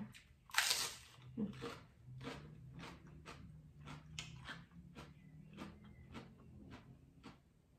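Crunchy, sweet crisp food is bitten and chewed close to the mic in a series of sharp, irregular crunches, quiet overall with a faint murmur underneath, at a home meal of beef larb and salad.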